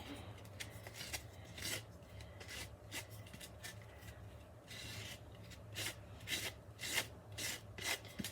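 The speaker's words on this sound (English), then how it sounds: "Scrape it. Try to make it smooth though." Spatula or scraper rasping frosting smooth across a Dollar Tree valentine cake, a steady run of repeated strokes heard up close and fairly quiet, with no talking.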